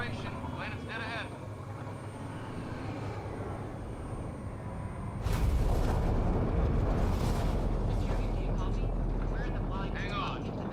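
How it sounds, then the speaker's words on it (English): Spaceship entering a planet's atmosphere in the game Mass Effect: Andromeda: a steady low rumble swells abruptly into a loud roaring, buffeting wash that holds to the end, with voices talking over it. "Initiating atmospheric entry."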